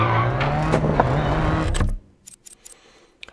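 An all-wheel-drive rally car driving in the video game DiRT 4, with a loud, steady engine roar that cuts off abruptly. A few sharp clicks and knocks follow in near silence.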